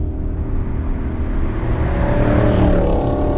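A BMW E39 M5 being driven through sweeping bends, its engine a loud, steady drone from inside the car with rising pitch late on as it accelerates, alongside road and wind noise.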